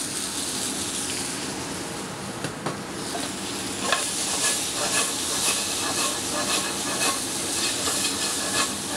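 Corn cut off the cob and pear tomatoes roasting in a hot pan, a loud continuous sizzle and steamy hiss with crackling pops and occasional stirring scrapes.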